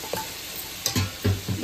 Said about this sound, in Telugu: ఈ పెసలు వేసుకున్నాక మొత్తం ఒకసారి కలుపుకోవాలి.